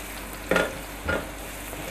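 Two finely chopped onions fry in half a cup of oil in a large pan, with a steady low sizzle broken by a few louder scraping bursts of stirring.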